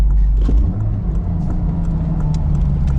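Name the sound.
manual transmission car downshifting from fourth to second gear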